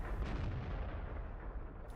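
A single heavy boom from a Tiger II tank cannon firing in World of Tanks, loud and close, with a deep rumbling tail that fills the whole moment and no talk over it.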